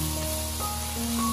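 Bitter melon stir-fries in a wok with a steady, close sizzling hiss that runs unbroken throughout.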